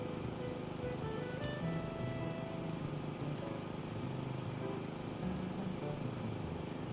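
A lawnmower engine drones in the video game House Flipper 2, a quiet, steady motor hum with slight wavering pitch, running continuously in the background.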